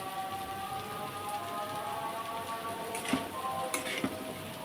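Cumin powder with ginger paste and a little garlic paste sizzling in a pan for a papaya, egg and lentil dish, a steady crackling hiss with a couple of louder sputters near the end, no talking.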